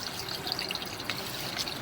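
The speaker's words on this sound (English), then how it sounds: "I ran water prior and during the inspection just to make sure there's no slow draining." Water running steadily through a sewer line during an inspection, a continuous hollow rushing and trickling with faint splashy accents, moderately loud and unbroken throughout.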